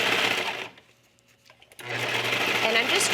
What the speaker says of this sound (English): give it one last little serge